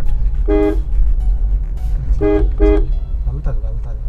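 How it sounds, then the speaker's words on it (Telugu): During a car driving lesson, the car's horn sounds three short, close toots, one early and a quick pair later, over a low engine hum with people talking. "హార్న్ కొట్టండి."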